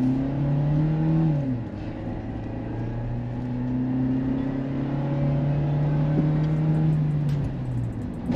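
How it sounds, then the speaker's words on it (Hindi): Suzuki Jimny engine revving hard under acceleration while driving in 4x4, a steady loud drone that climbs in pitch, drops briefly at a gear change, then holds high revs for several seconds. "काफ़ी हायर RPM पे चलाया और यार इंजन बहुत ही रैव हैप्पी है"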